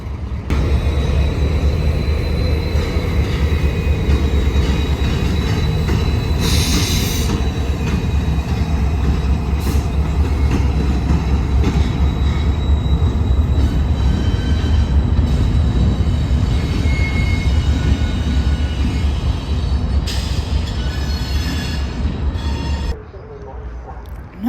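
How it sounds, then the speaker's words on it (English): Canadian Pacific intermodal switcher IY11 being shoved by locomotive CP 6222 near Bensenville, a loud, steady rumble of rolling cars and engine that holds for most of the stretch before easing off at the end. "Then we see the CP Bensenville intermodal switcher IY11 shoved by CP"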